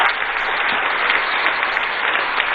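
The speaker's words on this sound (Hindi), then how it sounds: "दोनों हाथ उठा के ताली बजा के स्वागत कीजिए" A gathered crowd at a local welcome event applauds with a continuous, even wash of clapping that holds steady without pause, slightly muffled in tone.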